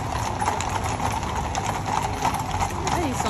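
Horses of the Garde Républicaine parade at a 2024 procession, hooves clip-clopping in a continuous busy rhythm under a constant crowd and street hum, with someone talking over it.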